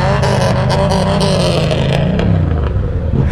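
A car engine revs hard nearby on a city street at night, a loud continuous roar with rising and falling pitch, and the engine note sweeps upward toward the end.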